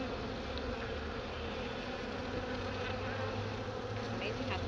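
A newly formed honey bee swarm being removed buzzes in a dense, continuous drone, many insects humming at once with no pauses.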